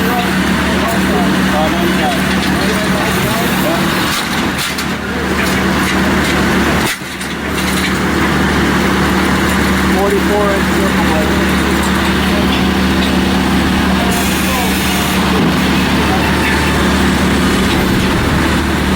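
A circular sawmill powered by a 74-horsepower diesel engine runs at woodsman's days, giving a loud, continuous engine drone with a brief dip partway through. Voices talk over it.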